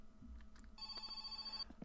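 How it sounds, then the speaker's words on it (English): Telephone ringing in My Summer Car, a single electronic trill burst of bell-like tone, faint and somewhat distant over low ambient hum. "That's my first phone call of the game."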